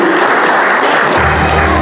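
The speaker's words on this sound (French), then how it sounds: "L'applaudissement de l'Assemblée est réclamé" Wedding congregation applauding during a church ceremony, a dense, steady wash of clapping close by with a low hum entering partway through.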